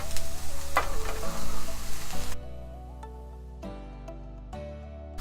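Boiled minced meat (qeema) dropped into a hot pan with garlic, a loud burst of sizzling that cuts off after about two seconds, then quieter scrapes and clinks, with no talking.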